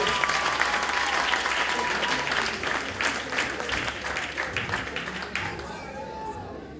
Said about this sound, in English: On peut les applaudir, leur sortie aussi.